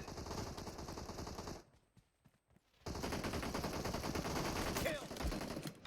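Rapid automatic gunfire in the mobile battle royale game PUBG Mobile, loud sustained bursts that break off briefly and then resume, with a player's voice occasionally heard over the shooting.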